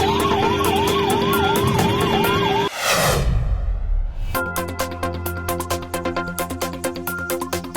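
An ambulance siren in Kerala wails in a rising and falling pattern for about three seconds. It cuts off into a whoosh, and then loud rhythmic music follows.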